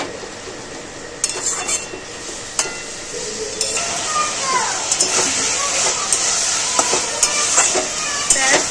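Okra and potatoes frying in a pan for a prawn and okra dish, a loud steady sizzle punctuated by sharp spatula knocks and scrapes, with a voice talking over it.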